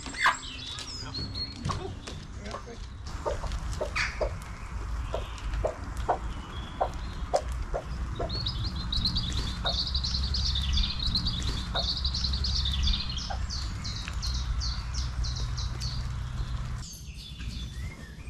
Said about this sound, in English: After a night in the chicken house, they took a little while to make their way out.